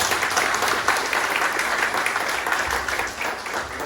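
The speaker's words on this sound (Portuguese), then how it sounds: "Uma salva de palmas para Jesus" Audience at a Bible course session breaking into sustained applause, a dense wash of clapping that holds steady throughout.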